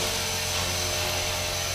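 Blade 330S RC helicopter rotor spinning at a higher head speed, a steady, close, high-pitched whine with a whirring buzz that holds constant throughout, without talk.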